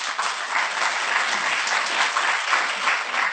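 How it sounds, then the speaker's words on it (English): Sustained, dense audience applause at a speech by Malaysia's education minister, steady and loud throughout with no talking over it. "A lot of applause for them."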